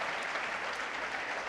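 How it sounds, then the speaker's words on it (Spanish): A church congregation applauding, a dense, steady wash of many hands clapping together, close and loud for the whole brief moment. "Dele un aplauso al Señor con toda gratitud."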